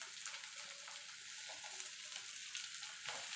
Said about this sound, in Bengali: এবার মশলাটাকে একটুখানি নাড়াচাড়া করে নেব যাতে মশলার কাঁচা গন্ধটা চলে যায়